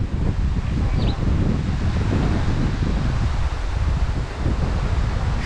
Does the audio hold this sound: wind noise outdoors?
yes